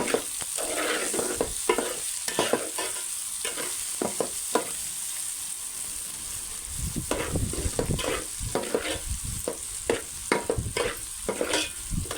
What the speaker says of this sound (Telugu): ఒక స్పూను సాల్ట్ వేసుకొని మొత్తం కలిసేలాగా ఒకసారి కలబెట్టుకుందాం